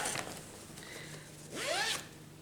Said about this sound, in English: Zipped my chart right in the old zipper.